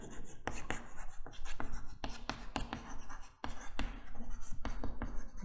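Chalk or marker strokes on a board during an engineering lecture on enhancement MOSFETs, with close, continuous scratchy taps and strokes in an irregular rhythm and a faint voice under the writing.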